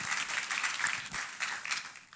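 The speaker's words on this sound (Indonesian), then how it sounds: "tepuk tangannya boleh yang paling meriah buat Tuhan kita" A church congregation claps for God during a service, a steady, fairly distant patter of many hands with no voices over it.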